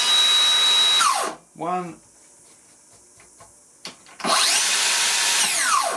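A Makita 40V plunge saw with variable speed runs in loud steady bursts, spinning down mid-clip and then winding back up to full speed, with a single spoken word in the quiet gap between.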